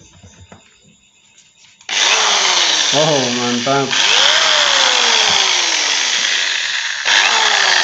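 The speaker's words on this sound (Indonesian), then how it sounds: "Oke, kita coba colokkan sebuah bor." An electric drill run from a Taffware 1000W inverter starts with a loud steady whine, holds it for several seconds, dips briefly, then spins up again, while someone speaks over it.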